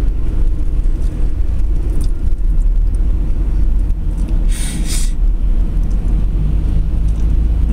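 Car driving through Pittsburgh, a constant loud low road and engine rumble with wind buffeting throughout and a brief hiss of passing air midway.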